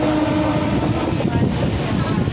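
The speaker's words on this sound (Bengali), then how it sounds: "ট্রেনটা এখন এইভাবে কার্ভ হবে," A train runs along a curved stretch of track near the sea at Digha, a loud continuous rumbling roar with a faint tonal whine, heard close by.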